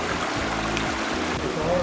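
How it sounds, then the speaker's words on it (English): Shallow stream flowing over rocks and boulders at a river crossing on the West Fork Trail in Sedona, Arizona, a soft continuous trickle and babble heard fairly close and quiet. "See all the rocks and boulders strewn along the stream."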